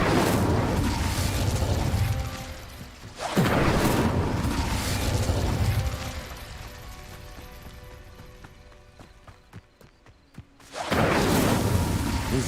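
The Incendio fire spell in Hogwarts Legacy erupts in three loud, roaring whooshes of flame, with quieter stretches and faint rhythmic ticking between the blasts.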